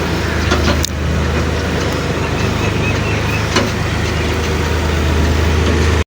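A tractor pulling a trolley during a maize harvest drones loudly up close with a steady engine rumble and a couple of brief knocks.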